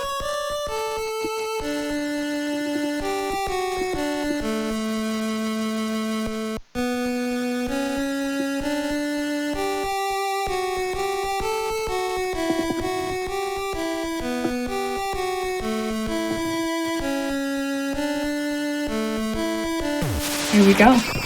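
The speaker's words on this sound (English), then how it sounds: "That's the song of Geeg's childhood." Ending song from the NES-era game Mother (Earthbound Beginnings) plays as a steady chiptune melody of bright square-wave notes over a simple bassline, with a brief break partway and some faint noise near the end.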